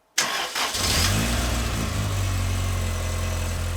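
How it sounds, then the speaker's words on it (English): A Lotus Elan M100 non-turbo engine with a difficult-start fault cranks briefly, catches and roars to life, then settles into a steady, loud idle rumble. "So I'm gonna try to start it again and see if I can better show you the issue."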